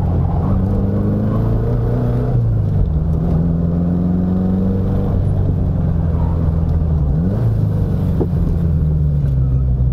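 A 1970 Opel GT classic car drives along canyon roads, its engine droning steadily with rising and falling pitch as it accelerates and shifts through bends, loud and continuous with no talk.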